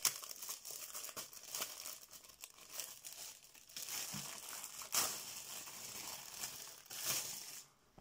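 Plastic film crinkles and tears as a mouse pad is unwrapped, a steady run of close, quiet crackling and rustling with small bursts of louder crumpling, no voices.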